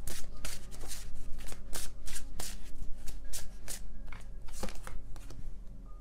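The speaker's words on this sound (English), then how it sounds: "I don't look at the deck while I shuffle." Tarot cards are shuffled by hand in quick, crisp riffling bursts. The ruffles come close and loud at an irregular pace, with no talking.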